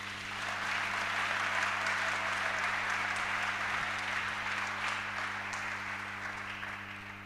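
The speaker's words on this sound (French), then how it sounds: "Acclamez d'abord Jésus" A church congregation applauds and cheers to acclaim Jesus: loud, dense, sustained clapping that holds steady for about seven seconds before easing slightly at the end.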